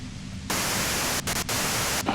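Radio white noise static in the Disco Elysium video game, loud and constant with a few brief dropouts.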